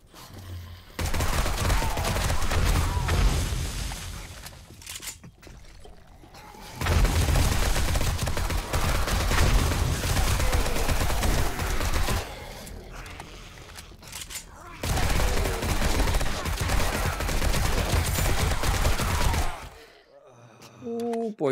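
Sustained bursts of rapid gunfire from the survival video game 7 Days to Die with the Darkness Falls mod, loud and dense in three long volleys separated by brief lulls, with talk and game noise mixed in.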